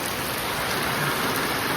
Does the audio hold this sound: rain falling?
yes